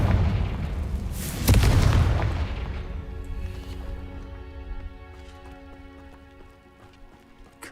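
A Confringo fire spell cast in Hogwarts Legacy bursts into a loud booming explosion that swells then slowly fades into ringing, shimmering magical tones and a low lingering rumble.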